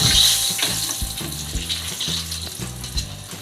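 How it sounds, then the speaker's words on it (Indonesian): Cassava pieces frying in hot oil give a loud, continuous sizzle with bubbling crackle and a few soft stirring knocks, close up and with no voices. "goreng ya sampai singkongnya ini menjadi golden brown atau berwarna kecoklatan"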